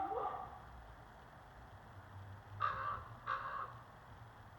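A crow-like bird calls outdoors in a quiet natural setting, two short harsh caws standing out over a low steady background hum, moderately near and otherwise still.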